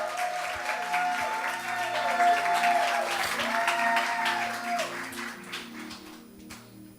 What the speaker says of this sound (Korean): 먼저 임정원 형제님 나오실 때까지 박수로 맞이해 주시길 바랍니다.